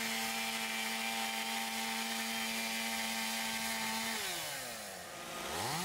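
A chainsaw runs at a steady high whine while cutting through a residential roof for ventilation, then its pitch drops and wavers as the load changes near the end, loud and close with no talk.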